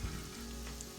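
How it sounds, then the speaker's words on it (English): Pierogi frying in a pan, a soft continuous sizzle, close but quiet. "We got a good sizzle going here"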